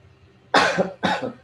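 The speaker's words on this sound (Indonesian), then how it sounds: "Maaf, agak batuk sedikit" Two sharp, close coughs in quick succession, the second slightly softer than the first.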